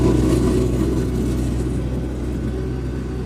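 A Kartar 3500 harvester tractor runs in second gear while moving, its engine a steady, loud, low rumble that stays close and constant throughout, with no talking over it.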